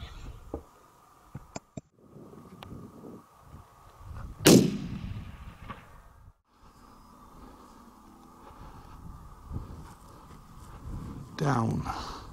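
A hunting rifle fires once at an antelope across open Wyoming sagebrush, a sharp loud crack midway with a trailing echo, amid wind noise and faint handling sounds, with another sharp burst near the end.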